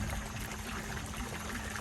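Water gushes from a 2-inch pipe shower in tropical Thailand, a dense steady splashing rush, faint and continuous, with no voices.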